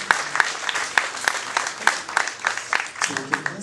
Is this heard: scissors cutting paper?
no